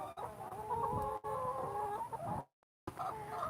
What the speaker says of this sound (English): We still got our broody hen. She's still sitting in there.